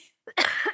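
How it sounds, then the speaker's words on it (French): A single sharp cough, close and loud, after a brief silence, with nothing else around it. "il faut que je tousse"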